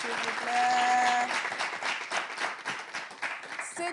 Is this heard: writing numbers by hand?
no